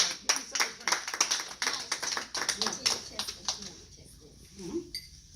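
A short burst of applause and clapping during a Kangen water demonstration, sharp hand claps for a few seconds that die away, with people talking over and after them.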